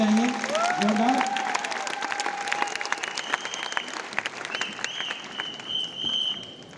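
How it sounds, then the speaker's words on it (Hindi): A hall audience at a company event at Talkatora studio claps in applause, moderate and fairly steady, with a speaker's voice and some tonal sounds mixed in over the clapping. "तो तालियां तो इनके लिए होनी चाहिए जोरदार।"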